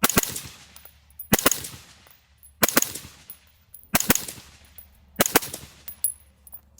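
A rifle fitted with a lightweight HAVIC 6mm suppressor fires five sharp muffled shots at roughly even intervals outdoors. Each shot is loud and close, and each is followed by a short decaying tail.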